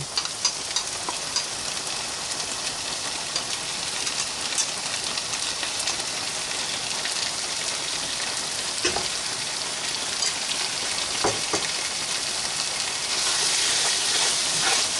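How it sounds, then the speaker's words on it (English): Tteokbokki sauce fries with softened vegetables in a pan, giving a continuous close sizzle and bubbling hiss with a couple of sharper pops partway through, growing slightly louder toward the end. "We want to kind of fry our sauce a little bit."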